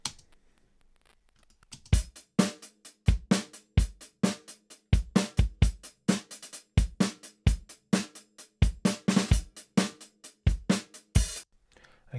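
Processed snare drum from a drum mix after a first stage of EQ cuts and boosts, heard alone as a steady stream of sharp, snappy hits in a driving rhythm, loud and close.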